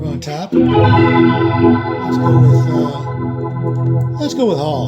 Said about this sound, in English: Bring in a little reverb on top.